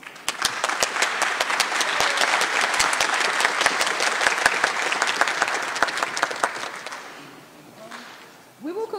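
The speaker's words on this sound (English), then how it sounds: "Please give her a special round of applause." Warm applause for Miss Angie Lish, the accompanist, at a high school choir spring concert; dense clapping from the audience rolls steadily for several seconds, then fades out before a voice begins near the end.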